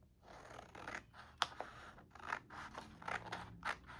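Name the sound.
scissors trimming collage paper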